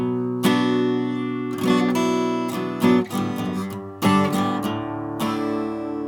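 Acoustic guitar chords strummed in a slow sequence, each chord ringing out before the next, with brief pauses between changes; no voices.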